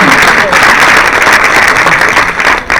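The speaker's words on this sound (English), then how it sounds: "You can applaud." A crowd applauds, dense clapping filling the room at full volume for a few seconds.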